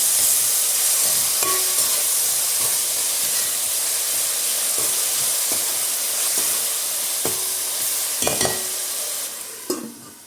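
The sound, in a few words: ginger garlic paste frying in a pan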